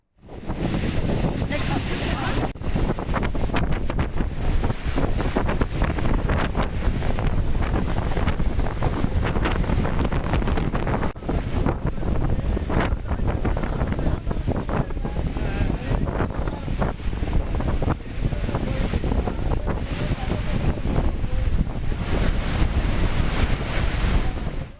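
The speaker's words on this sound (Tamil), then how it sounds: "ஆழ்ந்த காற்றழுத்த தாழ்வு மண்டலம் காரணமாக பாம்பனில் கடல் சீற்றமாக காணப்படுகிறது." Rough, storm-driven sea at Pamban under a deep depression, with heavy waves surging and crashing continuously alongside strong wind buffeting the microphone; a loud, dense roar throughout with no voices.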